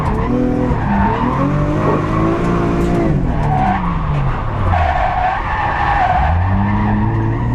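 A Lexus IS200 fitted with a Toyota 1JZ-GTE six-cylinder engine drifts loudly, the engine rising and falling in pitch as its tires squeal continuously through linked slides.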